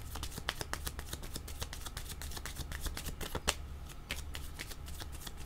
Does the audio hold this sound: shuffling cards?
yes